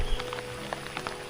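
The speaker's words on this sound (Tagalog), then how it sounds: "Ang sarap ng ulan, oh." Rain falls steadily in a garden patch with bitter gourd vines, a soft continuous patter with a few sharper drops landing nearby.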